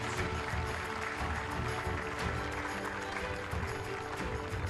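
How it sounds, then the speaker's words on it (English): A crowd applauds the recurve archers at the finals of the Hyundai Archery World Cup stage in Paris, a dense, even wash of clapping heard from a distance, fairly faint. "please give a warm round of applause to our athletes"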